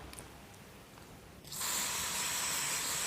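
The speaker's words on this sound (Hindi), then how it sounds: "मैंने यहाँ पे रूट पे स्ट्रॉन्ग हेयर स्प्रे लगाना है" Strong hair spray misted onto the hair roots, one sustained close hiss starting partway through and holding steady to the end after a quieter lead-in.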